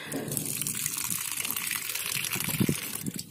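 Water pours steadily from a tap or hose as a container fills for watering rooftop garden plants, a continuous close gush with a brief louder splash near the end.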